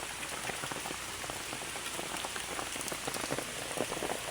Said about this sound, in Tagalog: Ang kalsada na ulan na panahon na nag-ulan.